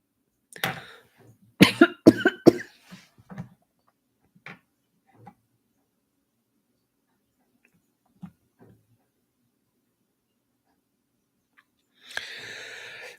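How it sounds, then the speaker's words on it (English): A person coughs in a quiet room, a cluster of several close, harsh coughs followed by a few weaker isolated coughs and throat sounds spread out over long silent gaps. "I'm going to try to cough it through."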